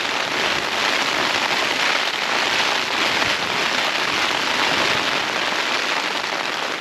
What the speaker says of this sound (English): I didn't think the rain would be this bad tonight